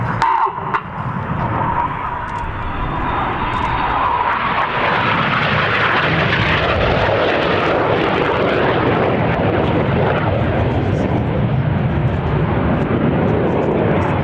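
Red Arrows jet aircraft performing a flying display at RIAT 2012 roar overhead, a loud, sustained broadband engine rush that swells and persists throughout without a break, with no talk over it.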